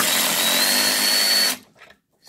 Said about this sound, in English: I'm going to unscrew the bolts from the charge controller.